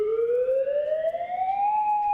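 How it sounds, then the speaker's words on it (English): Hawaii's attack alert siren sounds during a test, a single loud, clean electronic tone rising slowly in pitch and held steadily on its own. "Hawaii had become the first state in the nation to test its attack alert sirens."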